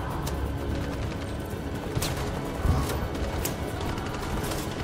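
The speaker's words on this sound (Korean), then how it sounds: "어머, 사격." Gunfire in a shootout from the video game Detroit: Become Human, a dense continuous barrage of shots with scattered louder cracks over steady rumbling noise.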